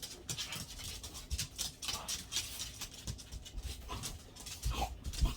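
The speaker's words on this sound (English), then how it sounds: "Sorry if you hear my dogs, they're playing in the background." Several dogs playing in another room, with whimpers, quick panting and pattering paws coming and going in short bursts, moderately faint and steady throughout.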